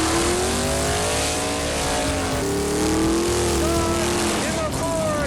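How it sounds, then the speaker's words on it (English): A drag race car doing a burnout at US 131 Motorsports Park, a loud, sustained engine roar with rising and falling pitch that holds steady throughout, with crowd and announcer noise underneath. "Let's see some burnouts."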